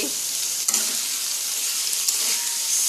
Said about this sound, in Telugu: ఫ్రై అవుతూ ఉంటుంది